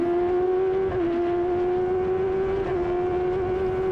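An F1000 race car engine on track at Cadwell Park, heard as a steady, loud onboard drone that holds a constant pitch with a couple of brief dips in tone.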